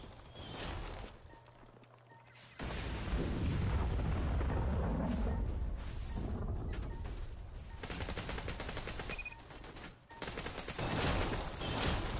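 Gunfire in Borderlands 2, a few sharp shots followed by a long rumbling stretch of heavy firing and blasts, loud and dense, with short quieter gaps.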